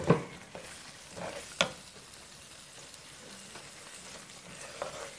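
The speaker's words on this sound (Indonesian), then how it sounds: "Dan kita akan gaul dan akan masukkan sedikit lagi air." Spices stirred with added water in a pan while cooking butter chicken give a steady, close frying sizzle with a few scraping stirs of a utensil near the start.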